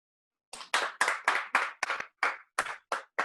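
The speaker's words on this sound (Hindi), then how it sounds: "जोरदार तालियों के बीच में" Handclaps greeting a team leader called to speak at an RCM Zoom webinar, about nine separate claps in a steady, evenly spaced rhythm, close and clear with no talk over them.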